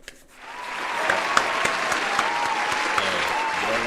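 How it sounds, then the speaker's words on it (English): Applause rises after a brief quiet start and holds as a steady wash of clapping with a few sharper claps standing out. It is fairly close and carries on without a break. "Hey, clap it up."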